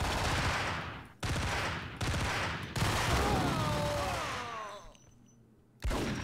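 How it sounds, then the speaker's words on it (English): Gunfire in the video game Max Payne: several bursts of rapid shots, loud and close, separated by short gaps, with a longer trailing burst fading into a ringing tail before one more burst at the end. "Oh, cool, I can shoot in this scene,"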